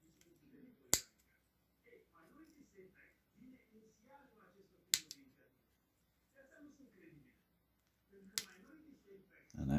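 Three separate crisp snips come from a plastic piece being cut off a frame, spaced several seconds apart, while a voice murmurs quietly between the cuts.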